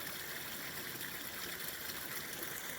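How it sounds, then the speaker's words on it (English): Meltwater running and trickling outdoors after snow and rain, a steady soft wash of flowing water heard alone, fairly faint and continuous. "The water's still running."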